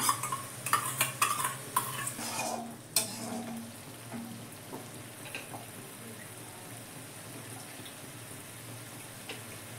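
Spices being cooked down in a pan with sour yogurt for an egg-poppy-seed dish, with stirring scrapes and soft sizzling that are busy at first, then settle into a quiet, steady simmer.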